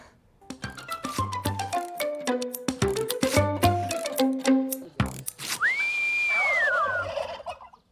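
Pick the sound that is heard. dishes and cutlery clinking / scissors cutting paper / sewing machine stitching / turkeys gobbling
turkeys gobbling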